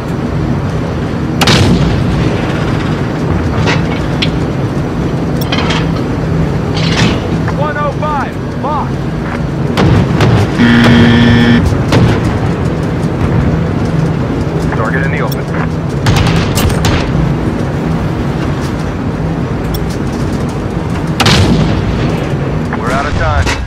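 Call of Duty air support unleashes repeated heavy gunfire and booming explosions, bursts coming in irregular waves amid a constant battle din, with voices shouting over the barrage.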